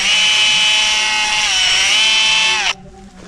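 Loud, close whine of a power drill boring a tap hole into a maple tree, a steady high-pitched run of about two and a half seconds that dips slightly in pitch, then cuts off abruptly to near quiet.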